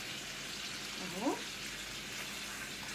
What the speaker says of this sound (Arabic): هي لازم تتحمر معايا كويس قوي